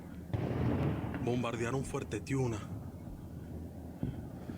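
Low, rumbling booms of distant explosions and gunfire at night during a war, heard from rooftops, with sharp blasts near the start and end, while someone speaks briefly over them in the middle.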